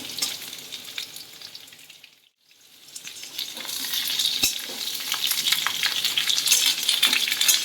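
Pieces of fried pointed gourd being stirred in a sizzling pan for a Bengali mixed vegetable dish, a steady crackling fry with scraping stirs, briefly hushed midway and then returning fuller and brighter.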